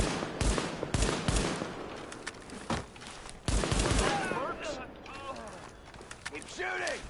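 Sidearm gunfire in a Tom Clancy shooter game: repeated sharp pistol shots in irregular bursts, mixed with combat noise and voices calling out.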